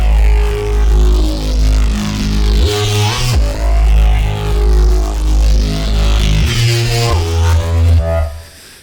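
Modulated synth bass for a drum and bass neurofunk track, loud and growling with sweeping, wobbling tone and pitch drops every few seconds, played alone before cutting off at the end.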